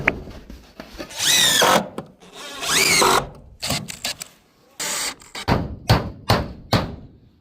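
A power drill drives screws into sheet-metal roofing while a chimney is being clad. Loud rising whines come in bursts of about a second, then a run of shorter quick pulses, with brief gaps between them.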